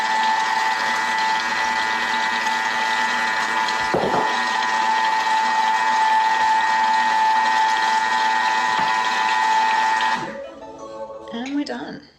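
A Thermomix runs with a steady, loud mechanical whir while oil is poured in to make mayonnaise. The whir holds for about ten seconds, then stops abruptly, and a few light clatters follow.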